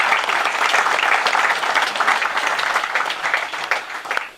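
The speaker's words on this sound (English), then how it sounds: "can we give John Wharton and all the staff a round of applause" An evening forum audience applauds John Wharton and the staff, a steady, full round of many hands clapping together that holds for several seconds before tapering slightly at the end.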